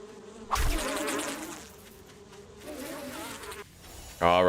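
Bees in the survival video game 7 Days to Die buzz in steady, droning waves that swell and fade over several seconds, loud and close, with no talking.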